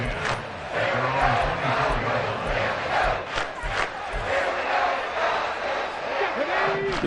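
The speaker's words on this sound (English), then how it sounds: "And this crowd has certainly liked what they've seen." Stadium crowd roaring and cheering at a video game football match with the Atlanta Falcons, a loud continuous wash of noise with whistle-like tones and swells throughout.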